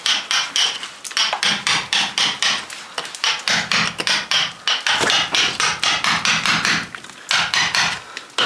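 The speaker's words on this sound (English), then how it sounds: "Let's try it with a hammer." Hammer repeatedly striking hard baked clay joints in an old cottage fireplace, sharp rapid blows in quick bursts with brief pauses, close and loud, no talking.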